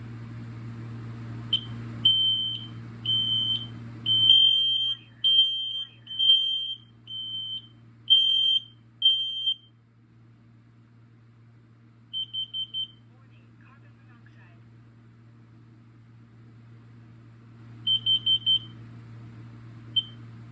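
Interconnected hardwired smoke and carbon monoxide alarms sounding in carbon monoxide mode, a series of sharp high beeps in groups of four that stop, then return in short clusters over a steady low electrical hum.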